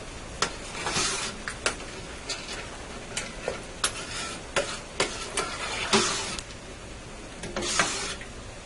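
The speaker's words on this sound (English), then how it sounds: "I'll give this a stir and a taste" Penne rigate in meat sauce gets stirred in a pan, a spoon scraping and clacking in irregular bursts over a faint sizzle, fairly quiet and close, with no voices.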